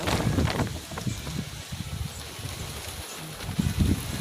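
Seaside wind buffeting the microphone in low rumbling gusts, steady and fairly loud throughout, with heavier blasts near the start and end.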